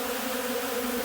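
Bees feeding at an open tray of pollen substitute make a constant, dense buzzing hum, close and even, with no breaks.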